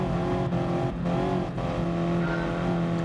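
Race car engines from GT Sport drone loudly and continuously with layered harmonic tones, rising and falling as the cars accelerate and shift, with no voices.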